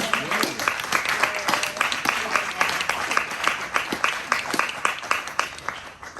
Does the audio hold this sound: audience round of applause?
yes